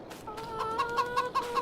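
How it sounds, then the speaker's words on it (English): Chickens clucking in the farming video game Farming Simulator 22, a rhythmic run of soft, close clucks repeating about every fifth of a second with no voices over them. "Let's quickly check on the chickens here."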